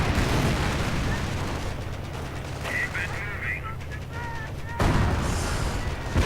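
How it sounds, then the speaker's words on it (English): An M26 Pershing tank firing in a video game battle, heavy booming gunfire and explosions over a dense, continuous din, with a commentator's voice talking over the action. "Pershing firing away."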